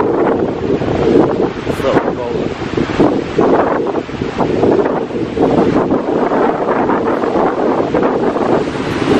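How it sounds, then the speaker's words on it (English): Strong wind blowing beside a lake at Gillson Park beach in Evanston, a steady loud roar buffeting the microphone with a faint wash of surf beneath, continuous for the whole stretch. "So windy here beside the lake."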